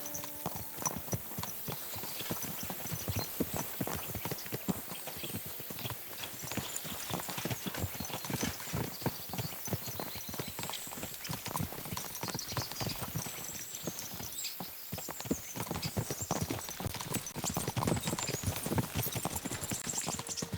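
A horse's hooves clip-clop in a steady, continuous rhythm throughout, moderately close, in the medieval video game Kingdom Come: Deliverance II.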